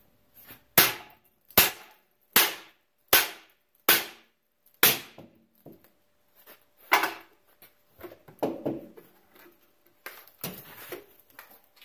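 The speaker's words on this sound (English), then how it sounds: "we're going to have to kind of smack that with the hammer and knock it free" Sharp metallic hammer blows knock a rusted leaf spring center pin free on a Jeep XJ, about eight evenly spaced strikes, then a few lighter knocks and clattering.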